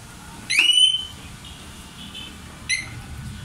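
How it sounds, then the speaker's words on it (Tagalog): A car's anti-theft alarm gives two short, sharp electronic chirps about two seconds apart, loud and close, over a quiet background with no talk. "anti-theft alarm."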